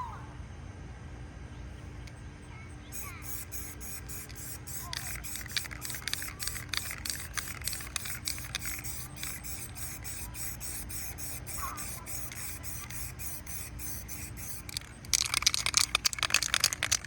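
A spray paint can hisses in rapid short bursts over a stencil, a long run of quick pulsed sprays followed by a louder, denser burst at the end, close and fairly quiet against a low background hum.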